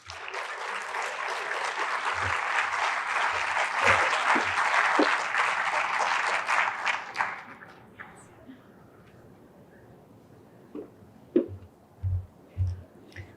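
An audience at a lacrosse coaches' awards and Hall of Fame induction ceremony breaks into loud, sustained clapping that fades out after about seven seconds, followed by near-quiet with a few soft knocks and bumps.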